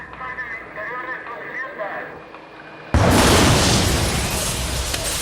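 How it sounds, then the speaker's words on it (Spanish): Car bomb explosion, a sudden loud broadband blast that cuts in partway through and is followed by sustained roaring rumble, after a stretch of narration by a man. "el coche en el que habían huido los asesinos hizo explosión"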